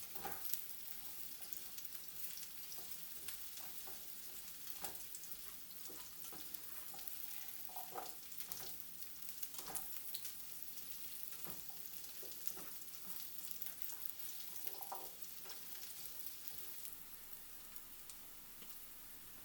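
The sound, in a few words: pumpkin and sweet potato frying in oil in skillet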